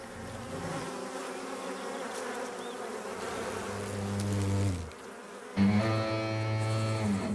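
Dense, droning buzz of honeybees under attack by hornets, close and loud, rising in intensity before a brief dip and a sharp, louder return.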